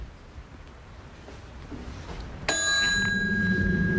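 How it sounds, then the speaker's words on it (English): A single bright ding from a hotel service bell at the Tower of Terror, struck once and left ringing with a long clear sustain over faint room noise. "I was just playing with the bell."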